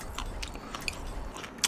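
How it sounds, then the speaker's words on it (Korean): Wet lip-smacking and chewing close to a gaming microphone, with soft repeated bites and crunchy clicks over about two seconds and a sharper smack at the end; no talking. "아 근데 진짜 일부러 쩝쩝대는 거 아니에요."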